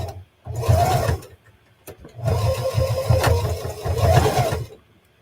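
A sewing machine stitches a bulky lolita headpiece in three loud, close bursts of rapid mechanical whirring, separated by short pauses.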